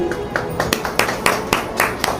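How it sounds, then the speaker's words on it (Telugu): Schoolchildren in a classroom clap together, about nine bright, fairly loud claps in a steady, slightly uneven rhythm over a low background murmur. "అందరూ చప్పట్లు కొట్టండి."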